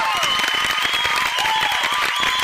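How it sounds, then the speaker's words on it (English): A crowd claps steadily for the winner at a summer shootout race at Ozark Raceway, a dense, continuous patter of applause with a faint hint of cheering and no talk over it. "clap it up for that one"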